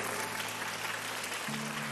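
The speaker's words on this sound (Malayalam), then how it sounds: "ഒരു കയ്യടി കൊടുത്തേ ആ മാതാപിതാക്കൾക്ക്, ആനിന്റെ അപ്പനും അമ്മയ്ക്കും." A church audience applauds a couple, the parents, at a parish event: a dense, steady wash of clapping that fills the whole stretch at an even level, with a low electrical hum beneath.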